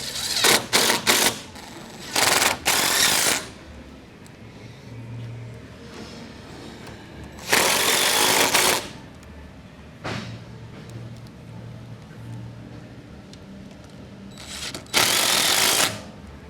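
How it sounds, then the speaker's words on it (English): A power tool drives and tightens bolts on a Thumper Fab nerf rail skid plate for a Tracker 800SX, firing in several loud, short rattling bursts separated by quieter pauses. "Now you can tighten all your bolts."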